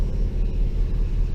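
Steady low diesel idle from a 2013 Ford F450 pickup with a 6.7L diesel engine, a close, even rumble with faint rhythmic pulsing and no talk over it.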